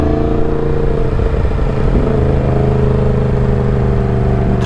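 A cold motorcycle engine idles as its rider warms it up, a loud, close, steady rumble with a faint rise near the middle and no talk.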